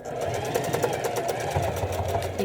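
A sewing machine stitches along a trouser inseam in a straight line, a steady close mechanical whir with rapid needle pulses running throughout, with a voice talking over it.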